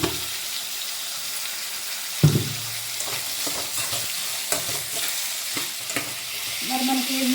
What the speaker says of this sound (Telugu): మనకి ఉల్లిగడ్డ టమాటా తొందరగా మగ్గుతుంది.